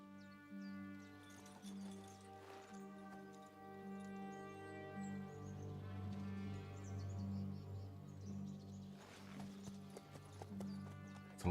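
Horse hooves clip-clopping at a steady walking rhythm in the video game Kingdom Come Deliverance 2, heard under a sustained orchestral music bed that carries through the whole passage.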